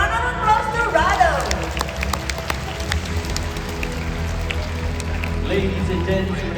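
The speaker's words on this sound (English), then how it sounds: "let's give a big round of applause to Rado" An audience at the Predators on Wings bird show in Singapore's Sky Amphitheatre claps steadily, a broad wash of applause from a crowd spread around the seating, holding at an even level throughout.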